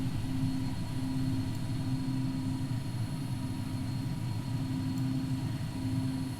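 A jet aircraft taking off in a flight simulator: a steady engine roar with a humming low tone and a faint high whine, constant and moderately loud throughout with no voices.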